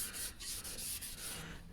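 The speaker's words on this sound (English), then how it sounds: "It's got just a little bit of surface rust here and there, not much. But one of these sanding pads gets rid of that." Sanding pad rubbing surface rust off a No. 6 hand plane, a series of quick, rhythmic scrubbing strokes, close but fairly quiet, with no voices.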